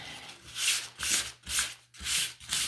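Sandpaper rubs gently over small wooden sign pieces in rhythmic back-and-forth strokes, about five close, soft scratchy passes with brief pauses between them and no talking.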